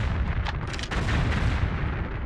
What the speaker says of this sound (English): Now let's go ahead and use the super ammo on them, see if I can't hit both of them.